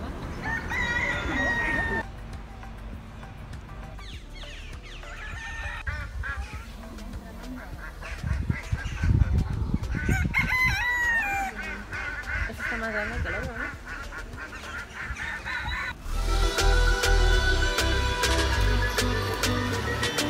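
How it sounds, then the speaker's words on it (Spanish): Many ducks and roosters call frantically near swans in Pamplona during the San Fermín fiestas, with repeated crowing, quacking and honking that is loud and overlapping, and a burst of louder calls near the end. "Y muchos patos y gallos cantando desesperados."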